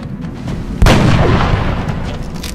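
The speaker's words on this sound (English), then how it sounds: "sniper headshot" A sniper rifle fires a headshot in the XCOM video game: one loud, heavy boom lands suddenly after a quiet stretch and then rolls off in a long, booming tail.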